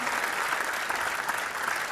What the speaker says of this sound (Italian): Facciamo un applauso a suo padre